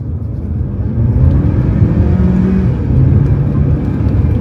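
A budget car's engine hums steadily from inside the cabin while driving, a continuous low drone that swells slightly as gears change, with no talk over it.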